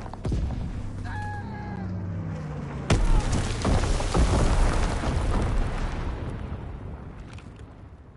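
Incendiary bomb explosions in a console war game: a sharp loud blast cuts in about three seconds in, followed by a sustained roaring, crackling rumble, with earlier low droning engine and whistling tones beneath.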